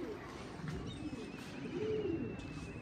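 Pigeons coo softly in a low, rolling call against quiet outdoor background noise, faint and a little distant, with a thin whistle-like tone drifting through.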